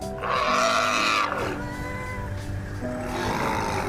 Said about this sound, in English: Want to hear how the roar of gratitude sounds like?